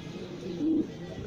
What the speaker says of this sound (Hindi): बेहतरीन कबूतर हैं जी, छत के कबूतर हैं दोस्तों